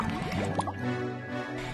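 Cartoon liquid sound effect of blue dye being stirred into a water tub in front of a house: a short burst of bubbly, dripping squishes followed by a sustained gurgling wash.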